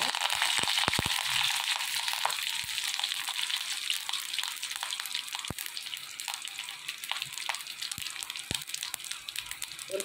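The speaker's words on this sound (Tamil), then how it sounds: "நல்ல எண்ணெய் காயட்டும், கொஞ்சம் கடுகு போடலாம்." Mustard seeds sputter and pop in hot sesame oil, a dense burst of sharp crackles at first that thins to scattered, irregular pops close by.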